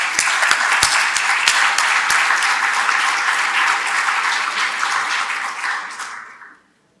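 An audience at a seminar against child labour bursts into loud, sustained applause, a few sharp individual claps standing out at the start before the clapping thins and fades out.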